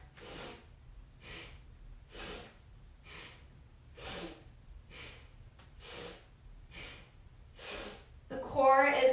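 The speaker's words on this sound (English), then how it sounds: "Nice, powerful inhales and exhales." Powerful yoga breaths push in and out in an even rhythm, about nine sharp forceful nasal bursts spaced roughly a second apart, close and fairly quiet, ending with a brief louder rustle.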